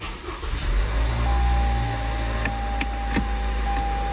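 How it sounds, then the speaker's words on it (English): A Toyota RAV4 engine turns over and settles into a steady, moderately loud idle with a low rumble and a faint constant whine, while a few light clicks come from inside the cabin. "So I'm going to start the engine."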